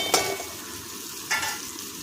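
Soaked and sprouted peas, chickpeas and moong beans frying in a pan, a low steady sizzle with two brief scraping stirs close by.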